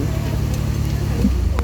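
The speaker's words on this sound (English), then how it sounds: "it's nice to listen to the V6 though, isn't it?" A Ford V6 car, kept for twenty years, idles at a Ford fair with a steady, close, low engine rumble throughout, while people talk nearby over it.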